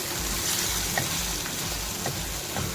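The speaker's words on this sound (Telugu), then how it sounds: "ఇవంతా ఇలా కలిపేసుకుని అది ఒక పచ్చివాసన పోయేదాకా ఉల్లిపాయ వేయించుకోవాలి" Chopped onion with ginger-garlic paste frying in a pan, a steady close sizzle with faint scraping of the spoon as it is stirred, no voices.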